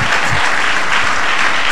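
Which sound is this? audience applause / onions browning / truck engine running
audience applause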